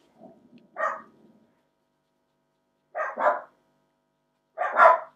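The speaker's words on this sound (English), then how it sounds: "Can you hear my dogs barking?" Dogs barking indoors in short bursts: a single bark, then a double bark, then a final bark after a pause, moderately loud against near silence.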